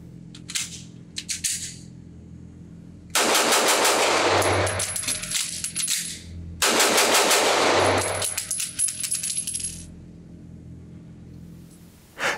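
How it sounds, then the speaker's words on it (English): A Staccato C2 compact 2011 pistol fired rapidly at a range in two loud close strings of shots, separated by a pause with a magazine change, with a few single shots before the strings. "Can I shoot this thing fast, drop the magazine, get a new one back in?"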